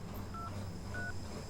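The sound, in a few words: phone dialing tones when placing a call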